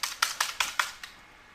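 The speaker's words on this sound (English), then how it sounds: "Now if I kept typing" Keystrokes on a computer keyboard during Adobe Photoshop work, about six crisp clicks at an even pace, close and fairly quiet, with no talking.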